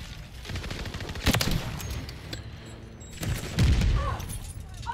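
XRK sniper rifle shots in a shooter game, one of them a low-hit headshot attempt: two sharp, loud cracks about two seconds apart, each with a booming tail, amid softer background gunfire and ambient battle noise.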